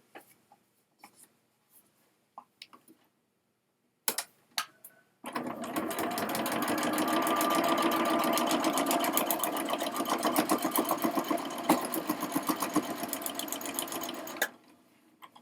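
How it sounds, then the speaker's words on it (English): A sewing machine stitches quilt pieces for a holiday banner in one close, steady run of rapid needle clatter lasting about nine seconds, preceded by a few faint clicks and taps of fabric handling. "And in the actual sewing, you want to make sure that your stitching is going on this line of the template."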